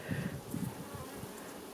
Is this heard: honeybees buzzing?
yes